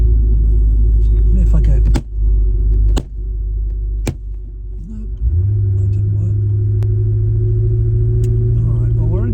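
Porsche 928 engine rumbling and pulling hard while driving, a steady low drone with a few sharp clicks and a dip, then rising again as the car accelerates; someone talks briefly over it.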